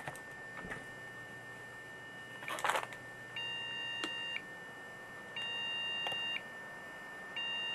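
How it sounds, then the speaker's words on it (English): Long, steady electronic beeps of a beep code from an Intel DQ35JOE motherboard repeat at regular intervals over a faint hum, following a few clicks and a brief burst of handling noise. "That's a beep code."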